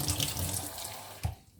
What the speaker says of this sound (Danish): Så skal der bare lidt vand i det her